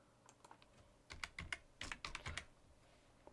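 Someone types a username on a computer keyboard: a quick run of faint, close key clicks, sparse at first and then denser, with no talking.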